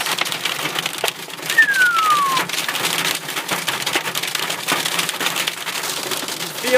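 Hailstones and ice pellets rattle steadily across the ground and against glass during a Texas hail storm, a dense continuous patter throughout, with a faint whistle-like tone sliding briefly early on.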